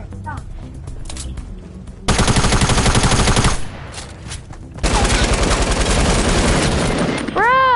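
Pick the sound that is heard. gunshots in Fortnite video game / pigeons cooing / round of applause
gunshots in Fortnite video game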